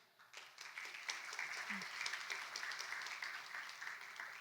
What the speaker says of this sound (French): Je vous demande juste quelques applaudissements